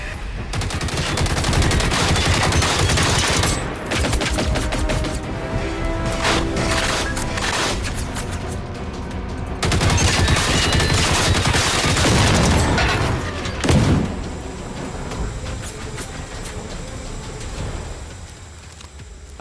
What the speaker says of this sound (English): while I was looting the smaller outside shed I began to hear gunshots